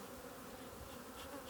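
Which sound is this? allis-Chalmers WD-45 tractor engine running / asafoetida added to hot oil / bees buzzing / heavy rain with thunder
bees buzzing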